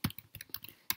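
Close, quick keystrokes on a computer keyboard, a short irregular burst of about eight clicks with no voices.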